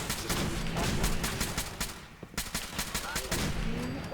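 Rapid gunfire in Fallout 4 during an underground firefight, with dense bursts and repeated shots that stay loud and close almost all the way through, broken briefly near the middle.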